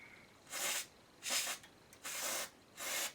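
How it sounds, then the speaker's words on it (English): Cleaner spray is blasted into a seized mechanism of a Waltham deck in four short, close hissing bursts about half a second apart, with quiet gaps between them. "I'm just spraying some cleaner in it."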